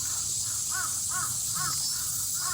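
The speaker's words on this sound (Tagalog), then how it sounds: "Ang ganda ng mga boses ibon, langgam, may wak-wak-wak." A crow caws repeatedly in a steady rhythm, about six harsh calls, over a constant loud hiss of insects or wind, among trees in Miura, Kanagawa, Japan.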